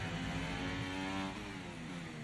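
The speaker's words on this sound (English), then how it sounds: "I can't get over how weird the V-carb sounds." Onboard engine of the VCARB Formula 1 car in the F1 24 racing video game, a steady high-pitched buzzing drone with layered harmonics, holding constant and then easing slightly.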